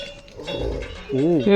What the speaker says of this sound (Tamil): எனக்கு தெரிஞ்சு 50 மாடு வருதுடா